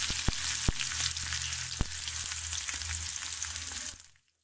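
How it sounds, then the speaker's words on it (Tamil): Small shallots, fenugreek, fennel and curry leaves sauté in hot oil for prawn gravy, a loud continuous sizzle with a few sharp knocks of a spoon, cutting off abruptly to silence at the end. "நூற்றி ஐம்பது கிராம் சின்ன வெங்காயம் அது கூட கொஞ்சம் கருவேப்பிலை இதையும் சேர்த்து நல்லா நம்ம வதக்கி எடுக்கணும்"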